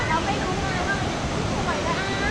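The steady, loud roar of rushing water from the Datanla waterfall in Dalat, Vietnam, fills the air, with faint voices mixed in.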